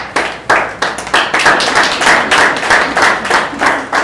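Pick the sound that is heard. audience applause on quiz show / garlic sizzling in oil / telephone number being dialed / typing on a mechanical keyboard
audience applause on quiz show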